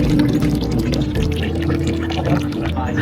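Clean drinkable water runs steadily from a public fountain or flowing source in Zurich, Switzerland, a continuous close splashing and pouring wash that fills the whole stretch without pause.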